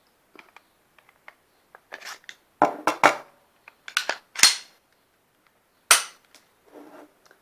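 Glock 19 Gen 5 pistol handled in a quiet room while the empty chamber is checked: a run of sharp metallic clicks and clacks from the slide and action, spaced irregularly, close and crisp, with no talk.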